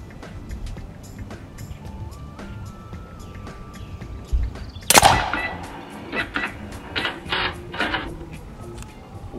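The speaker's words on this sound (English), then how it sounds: "Now we're shooting at the ballistic gel" A hunting pellet gun fires a single loud, sharp shot into ballistic gel, followed by mechanical clicks and handling noises at close range.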